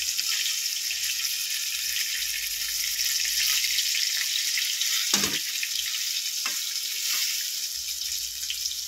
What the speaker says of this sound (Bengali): এই রেসিপিতে মাছটা একটু লাল লাল করেই ভেজে নিতে হবে।